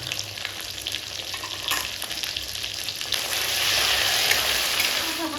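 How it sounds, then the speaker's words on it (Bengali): A magur fish curry spice paste of green chili, cumin, salt and turmeric sautés in a pan, a dense close sizzle with light stirring scrapes that swells louder toward the end, no voices. "হালকা করে কষিয়ে নিয়েছি"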